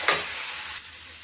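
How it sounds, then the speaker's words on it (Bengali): Ground spice paste hits a hot pan with a short sharp hiss that settles into a steady sizzle for under a second before quickly dropping away. "এবারে আমি সমস্ত কিছু বাটনাগুলো একটু ভালো করে কষাবো।"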